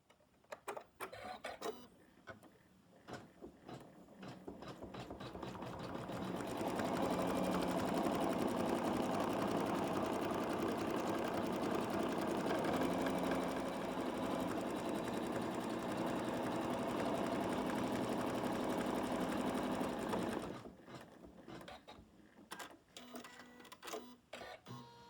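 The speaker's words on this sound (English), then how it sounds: "And now we're going to do the final stitching." An embroidery sewing machine works through its final stitching, a fast, steady mechanical whirr and needle clatter that runs continuously for around fifteen seconds, bracketed by softer intermittent clicks and taps before and after, close and with no speech.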